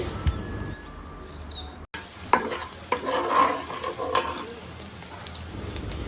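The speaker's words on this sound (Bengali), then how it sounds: "শুরুতেই আলু ভাজি করে নিচ্ছি" Potatoes frying in a pan with salt and turmeric: a steady close sizzle, stirred with scraping sounds, and a brief drop to silence early on.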